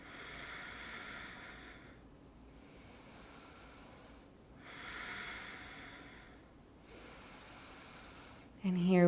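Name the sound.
deep yoga breathing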